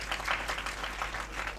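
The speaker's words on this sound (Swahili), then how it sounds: "Wapi tumpige makofi mzuri." A crowd at a National Youth Week gathering in Murang'a County applauds, with a dense, steady clapping that runs throughout.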